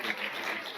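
A church congregation breaks into a brief, steady round of applause, dense clapping filling the whole short moment.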